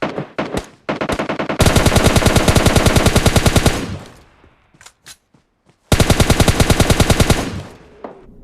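Automatic gunfire from a bot in a battle royale video game rattles out in long, loud, rapid bursts, with a few short stutters and single shots between them and a brief pause before another sustained burst.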